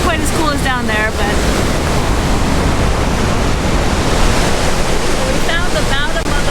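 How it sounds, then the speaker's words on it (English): River rapids and a waterfall roar steadily and loudly in Spokane, Washington, a dense continuous rush of water with faint bird chirps briefly audible over it. "And from here the rapids are brutal."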